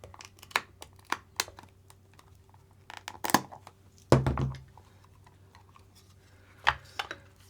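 Packaging of a Yantrs 0427AS-MGX-E 27kg servo being opened up close, with scattered sharp clicks, crinkles and tearing bursts, one longer rip in the middle, and quiet gaps between.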